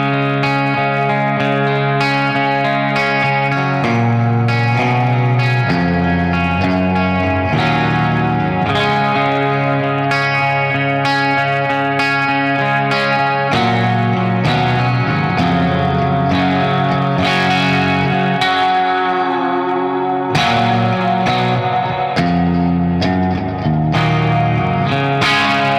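Electric guitar chords through the clean channel of a Bad Cat Jet Black amp ring out with lush reverb and a shimmering, spacious tail, playing steadily for a long stretch without any voices.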